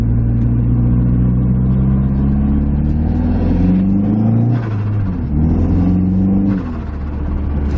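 A PT Cruiser GT with newly fitted EBC performance brakes drives and accelerates, its engine note rising steadily through gears with a steady whir, heard from inside the cabin and fairly loud.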